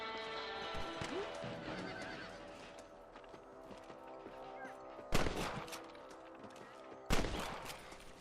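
Rifle shots ring out at rabbits in the video game Red Dead Redemption, two sharp, loud cracks several seconds apart over a steady background of horses and game ambience.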